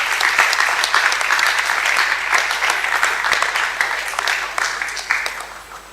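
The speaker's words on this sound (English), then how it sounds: "So let's give a round of applause as they take their seats." Sustained audience applause at an inter-school debate competition hall, a bright mass of clapping with a few sharp individual claps standing out, easing slightly toward the end.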